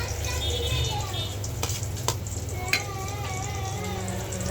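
Potatoes frying as aloo bhaji in a home kitchen pan, a steady close sizzle running throughout with a few sharp utensil clicks and scrapes, and background hum underneath.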